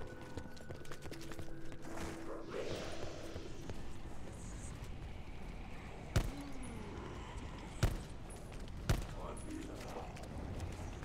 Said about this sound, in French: Peut-être qu'il faut tirer une balle par une balle.